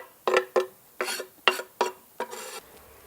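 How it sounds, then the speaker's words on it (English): A spoon stirs Indonesian stew in a pot with garlic, pepper and ginger, giving six distinct scraping, clinking strokes in an uneven rhythm, close and fairly loud with no talk. "Give it a stir."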